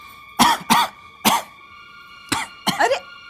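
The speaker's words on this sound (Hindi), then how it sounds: "वो अचानक खांसी।" A man in a Hindi TV comedy serial coughs suddenly in a string of five sharp, close bursts, two quick ones and then three more spaced apart, over a steady background hum.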